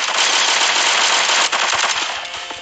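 Dense, loud burst of army rifle gunfire from the video game Pixel Strike 3D, continuous rapid shots filling the whole stretch before tailing off slightly near the end.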